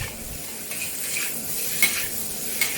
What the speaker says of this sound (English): stir fry the rice with high heat